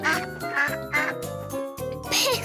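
A cartoon duck quacks in rapid, bright bursts, several loud calls in a row set against light jingling music.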